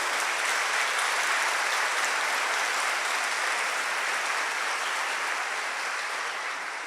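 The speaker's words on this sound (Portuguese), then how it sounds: "Pode dar um aplauso lindo." A church congregation gives sustained applause, a thick, even wash of clapping that stays strong throughout and tapers only slightly at the end.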